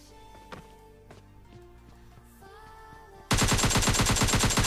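Gunfire in the battle royale game PUBG Lite, scattered distant shots and footsteps before a sudden loud, rapid automatic burst erupts close by and continues to the end.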